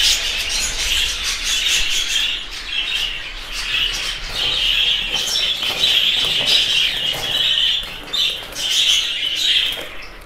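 Chirps and squawks from a young female pet bird, about four to five months old, as it is gently caught and held in the hand, sounding close, steady and busy with dense high calls and no talk over them.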